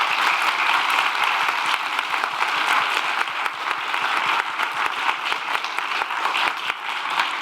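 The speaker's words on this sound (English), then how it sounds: "So give them an applause" Dense, steady audience applause for the speakers at a women's health event, many hands clapping at once, loud and continuous throughout with no voices.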